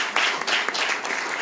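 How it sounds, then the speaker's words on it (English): Brief applause for panelists at a livestreamed ERGO Network event, a dense wash of clapping from a hall audience, moderately loud and steady for a moment. "I would like to ask for an applause for the panelists because they did a great job."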